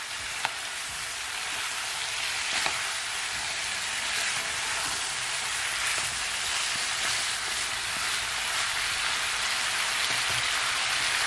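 A Jamaican-style curry turkey neck sears in a hot pan, giving a steady, even sizzle and crackle that runs unbroken for about eleven seconds at close range, with no talk.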